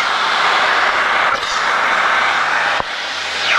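An aircraft lands roughly with a loud, steady roar of engine and wind noise. A single sharp jolt from the landing gear hitting the runway comes near the end.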